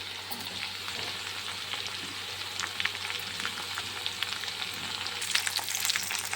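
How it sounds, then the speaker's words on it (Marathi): Masala-stuffed brinjals fry in a kadhai with a steady close sizzle, the stirring adding scattered scraping clicks that grow a little busier near the end. "मसाल्याचे वांगे, जे मसाले भरले वांग्यामध्ये, हे कढईमध्ये टाकल्यानंतर कलसून घ्यायचे 2 मिनटं"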